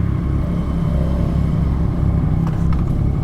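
A torquey motorcycle pulling away in first gear, its steady low engine rumble loud and close throughout, with a slight rise in revs near the end.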